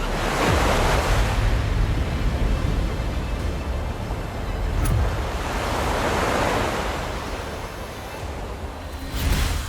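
Ocean surf on the Karnataka coast near the Mahabaleshwar temple, a steady loud roar of breaking waves swelling and easing in long surges, with wind noise and no voices.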